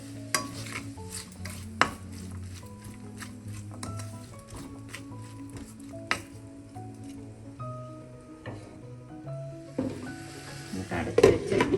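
Chicken liver stirred with salt in a pan on the stove, with steady soft sizzling and scraping stir strokes throughout and occasional sharper clinks of the utensil against the pan.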